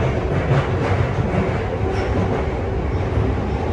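A London Underground metro train running after a concert, a loud continuous rumble with rhythmic wheel clatter and rail noise close by, carrying on steadily until it cuts off abruptly, with no talking.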